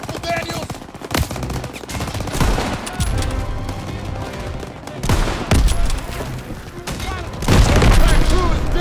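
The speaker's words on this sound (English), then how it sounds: "Everyone open fire!" Gunfire from the World War II shooter Call of Duty WW2, a dense, continuous barrage of machine gun and rifle shots with heavy booming bursts, loud throughout amid game music and battle noise, with voices calling out underneath.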